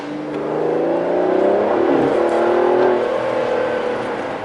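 An Aston Martin DB11 V12, rear-wheel drive, pulls away hard in first gear on a wet road, its engine note climbing loud and close with a brief dip before rising again.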